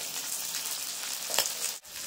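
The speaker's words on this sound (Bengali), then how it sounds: "মাছগুলো কিন্তু ভাজা হয়ে গেছে" Small puti fish frying in hot oil in a pan give a steady, close sizzling hiss with a brief soft disturbance near the end, and no voices.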